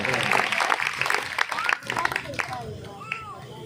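Applause from the audience at a Shri Shyam devotional jagran, brisk clapping that is loud at first and then thins out as a voice and other crowd voices come in over it.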